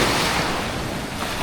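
Sea waves and rushing wind during a boat ride at high tide with strong waves, a steady loud wash of water noise filling the whole moment with no break.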